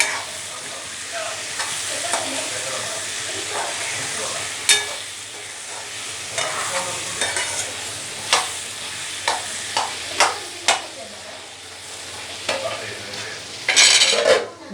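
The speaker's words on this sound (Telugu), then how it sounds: "తర్వాత మళ్ళీ ఒకసారి కలుపుకోండి ఇలా." A spoon stirs bottle gourd curry in a hot pan, the curry sizzling and frying steadily throughout, with scattered clinks and scrapes of the utensil against the pan and a louder clatter near the end.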